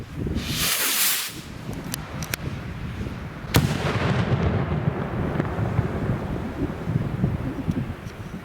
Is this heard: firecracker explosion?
yes